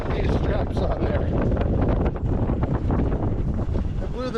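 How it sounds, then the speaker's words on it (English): Strong wind buffets the microphone outdoors on a gusty day, a loud continuous roar and rumble with a faint voice partly buried beneath it. "Stupid windy today."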